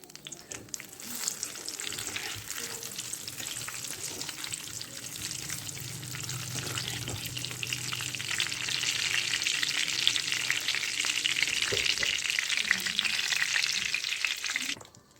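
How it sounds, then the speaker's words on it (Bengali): Dried red chillies and bay leaves fry in hot oil in a home kitchen, a steady loud sizzle that swells midway, with faint stirring clinks and no talk. "তেল গরম করতে দিয়ে দিয়েছি, দিয়ে দেবো শুকনো লঙ্কা আর তেজপাতা।"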